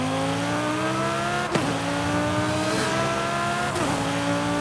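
A twin-turbocharged Mazda Miata sleeper with about 1,215 horsepower in Forza Horizon 5, at full throttle: a loud, close engine roar climbing steadily through the gears with two brief shift breaks.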